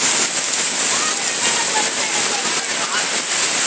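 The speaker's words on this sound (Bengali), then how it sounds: "এত পরিমাণ বৃষ্টি হচ্ছে" Heavy monsoon rain pours steadily during flooding in rural Bangladesh, a dense, loud, continuous hiss with no breaks.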